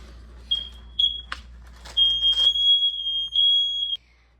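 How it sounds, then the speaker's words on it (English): A household smoke alarm sounds in a family home, giving several short high-pitched beeps followed by one long sustained shrill tone, loud and close, with a few clicks and knocks between. No one speaks. "my fire alarm just went off for no reason."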